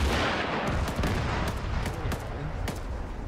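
Loud, dense gunfire in ARMA 3, with repeated sharp shots cracking over a constant roar of battle noise, close and continuous throughout.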